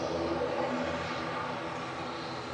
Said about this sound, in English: Noisy prop lined up in front of us.